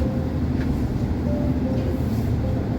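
Train rumbling along on the roughly hour-long ride into Oxford station on a snowy, sub-zero winter day: a steady low-pitched rolling drone with faint tonal hums, close and continuous, with no voices.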